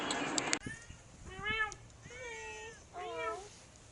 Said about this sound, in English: I think it's Dom George's cat.